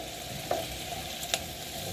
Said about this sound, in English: And we're going to stir these a while, just to get them saturated with that EVOO.